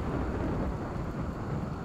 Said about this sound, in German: Gewitter ist übrigens auch sehr schlecht im Urwald.